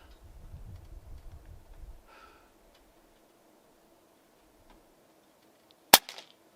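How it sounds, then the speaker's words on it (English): An Air Arms S510XS Stealth carbine in .177 fires a single pellet on power level 3, a sharp close crack near the end of the stretch, preceded by low handling rumble and quiet room tone. "All right, 5 shots. On power level 3."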